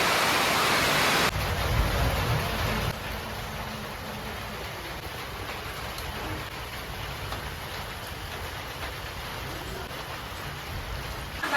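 Heavy rain pours steadily, a dense, even hiss of water striking surfaces nearby and blowing indoors, constant throughout with no talking.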